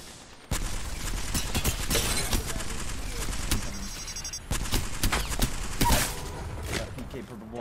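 Rapid bursts of L-Star energy gunfire in Apex Legends, loud, sharp repeated shots in several volleys, with a player's voice speaking over the shooting.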